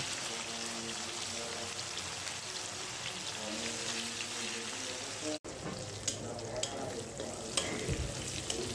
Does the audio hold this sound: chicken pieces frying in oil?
yes